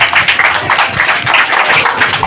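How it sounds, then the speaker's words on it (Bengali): Applause at a children's art exhibition, a crowd clapping steadily and loudly for a few seconds, dense overlapping claps close by with no talk over it. "যার জন্য একটা হাততালি হয়ে যায় বড় বড়"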